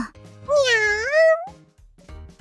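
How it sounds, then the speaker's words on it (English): A pet cat gives one clear, close meow that rises and falls over about a second, with faint household sounds around it. "That cat's yours?"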